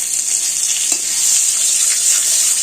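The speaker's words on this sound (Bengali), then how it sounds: "অল্প বাটার এইভাবে তেলে দিয়ে দিলাম" Cinnamon, cardamom, peppercorns, bay leaves and a little butter sizzle in hot oil for butter paneer, giving a loud, continuous, close hiss with a faint tap or two.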